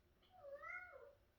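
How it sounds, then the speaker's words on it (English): A pet cat meows to be let out, one drawn-out rising and falling meow, faint and alone in a quiet indoor room. "My kitty wants out."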